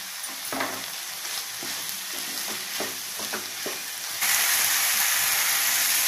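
Bitter gourd fries in a hot pan, stirred with repeated scraping strokes over a steady sizzle, and the sizzle swells louder and brighter toward the end as the flame is turned up.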